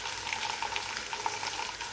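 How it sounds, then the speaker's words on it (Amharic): Ingredients with garlic fry in a pan, giving a steady, fairly quiet crackling sizzle with small pops scattered throughout and no talking. "ያዘጋጀነው አሁን ሁሉንም እንጠብሳቸዋለን።"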